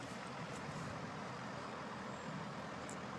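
A canal boat carrying a 20-ton digger chugs slowly along in the distance, a faint steady low engine rumble under broad outdoor hiss with no voices.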